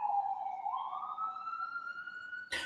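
A single siren in a city street wails steadily, its pitch slowly rising, heard from a distance at moderate volume, before a brief burst of noise at the end.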